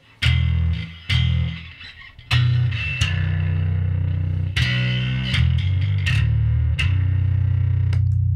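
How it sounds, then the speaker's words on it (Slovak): Electric guitar through a mild overdrive pedal, several strummed chords and ringing notes with a slightly gritty, lightly distorted tone, played loud and close without any talk. "Takže nie je to až tak veľmi skreslené, len, len troška ten dirt tam pridá."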